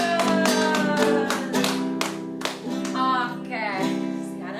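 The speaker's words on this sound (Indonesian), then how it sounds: "Berikan tepuk tangan yang meriah buat Tuhan" Children clap in quick rhythmic bursts during a church children's worship service, their sharp hand claps ringing out over sustained singing and music before easing off near the end.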